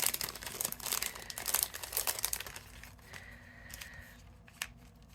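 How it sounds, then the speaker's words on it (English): Small plastic Ziploc bags being handled while preparing a crystal art card kit, giving a crinkly, crackling rustle in quick bursts up close, easing off toward the end with a few sharper crackles. "The little tiny Ziploc bags."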